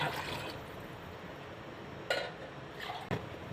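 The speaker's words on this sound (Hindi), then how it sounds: "और मैं इस कप से डालूंगी अब नाप के पानी" Water is measured out by cup and poured into a pot of rice for chana pulao, giving a steady liquid wash with two brief clinks or splashes near the end, close by and with no talk.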